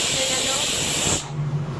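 Steam hisses loudly and steadily from a pressure cooker boiling potatoes as its whistle builds, then cuts off abruptly partway through, leaving a low hum and faint kitchen sounds.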